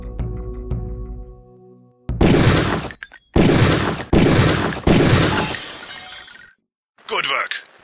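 Gunshots from a pistol-style weapon fired at a training target in the video game Deus Ex: four loud, sharp reports spaced about a second apart, each with a short ringing tail, then a quieter final shot after a pause.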